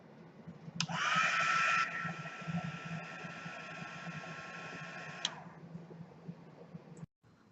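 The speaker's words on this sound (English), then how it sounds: "now I'm going to go ahead and dry this with my fancy dancy heat gun" A heat gun blows over wet watercolor paint for a few seconds, a steady whirring hiss that starts abruptly near the beginning, holds fairly loud and close, then cuts off, leaving low background hum.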